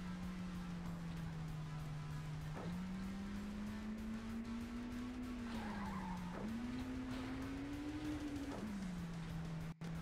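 A car in Drift King: Shutokou Battle holds a long, loud handbrake skid with a steady engine drone and tire squeal that wavers in pitch across several slides. No voices are heard.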